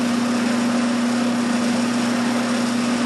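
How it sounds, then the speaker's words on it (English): A center drill spotting a small hole in metal for a propane forge burner makes a steady, loud, high-pitched machine whine with a constant tonal hum that holds without pause. "I'm just going to center drill a little spot there real carefully"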